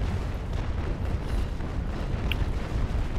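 Sailing warship cannons firing a broadside in the Naval Action video game, a dense continuous rumble of overlapping booms with no clear gaps, loud and heavy throughout.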